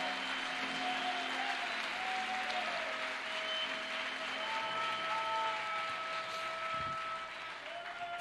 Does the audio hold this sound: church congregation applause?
yes